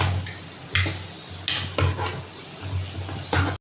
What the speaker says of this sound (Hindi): ये देखिए मैं लहसुन अदरक में चिकन को भून रही हूँ।